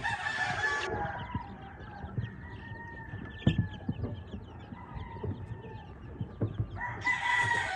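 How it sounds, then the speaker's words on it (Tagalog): Native chickens and chicks on a farm: a rooster crows near the start and again at the end, with soft clucks and faint peeping scattered in between, fairly quiet overall. "So ganun lang mga farmers ang idea ko para ma dali nating ma-identify yung mga sisiyo"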